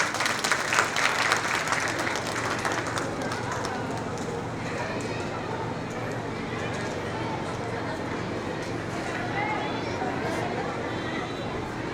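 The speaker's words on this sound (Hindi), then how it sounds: "बस जोरदार तालियां हो जाए" Applause from the audience at a school Mother's Day celebration, a steady wash of clapping that is densest in the first few seconds and then holds at a fairly even level, with voices and crowd noise mixed in throughout.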